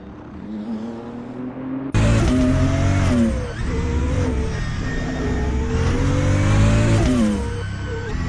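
A BMW GT3 race car in a racing video game roars loudly, its engine revving and shifting through gears in a sustained, close drone with rising and falling pitch, no voices.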